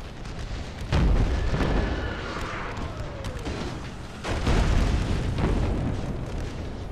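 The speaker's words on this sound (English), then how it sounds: "still got mortars coming in" Incoming mortar fire in a Civil War battle video game: two heavy, booming impacts land close, the second rumbling on longer, with faint whistling and scattered distant blasts between them.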